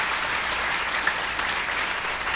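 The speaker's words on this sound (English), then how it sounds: "Y'all may clap for Briley" Church congregation applauding at a Sunday service, a continuous, fairly close wash of many hands clapping with a few sharper individual claps standing out.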